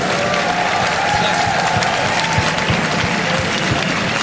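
Large audience applauding at an LCS European esports final, dense steady clapping with some cheering, loud and sustained without pause.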